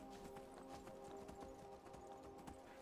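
Steady clip-clop of horse hooves at a walking pace in Skyrim, even rhythmic beats over a faint background hum.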